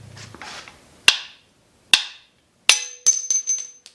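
Bushings are knocked out of a go-kart A-arm with a metal tool, producing several sharp, ringing metallic taps and clinks, close up and separated by brief pauses, ending in a quick cluster of hits.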